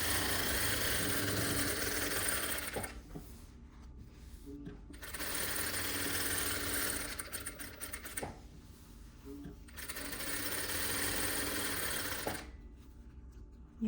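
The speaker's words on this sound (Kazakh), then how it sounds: "Енді қайтадан толықтай қалған бөлікті тігіп шығамыз." A sewing machine stitching fabric for a basque, running in loud steady bursts of rapid mechanical whirring separated by short pauses, close up.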